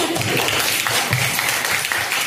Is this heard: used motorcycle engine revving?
no